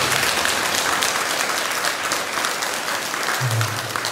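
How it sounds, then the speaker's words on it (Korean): Temple congregation at a Buddhist Saturday dharma service applauding students of the basic Buddhism course, a dense, steady wash of many hands clapping throughout, with a low hum briefly rising near the end. "우리 79기 기본교육 받으시는 분들께도 박수 한번 해주시기 바랍니다."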